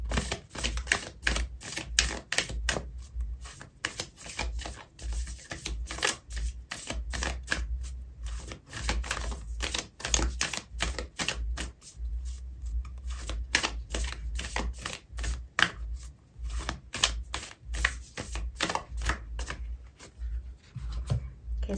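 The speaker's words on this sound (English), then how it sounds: "I'm going to pull out an oracle card for you" Oracle cards being shuffled during a tarot reading, a quiet steady run of soft rapid riffling and rubbing flutters that continues throughout, close to the microphone, with no talk.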